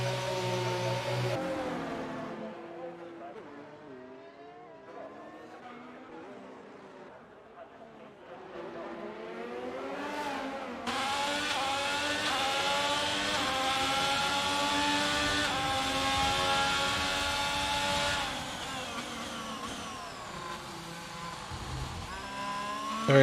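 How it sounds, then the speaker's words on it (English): Race cars drift around the Monaco street circuit in a racing video game, engines whining and revving with tyre noise as they slide through corners, with commentary running over the top. "There's drifting happening here."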